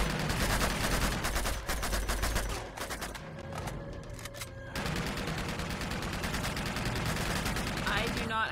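Rapid bursts of automatic gunfire and single shots from the Uncharted 2: Among Thieves video game fill the scene loudly, a brief lull midway before the firing resumes steadily, with a voice talking over it.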